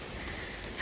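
Heavy rain pours steadily outdoors in a garden, making a dense, even hiss that fills the brief moment with no one talking.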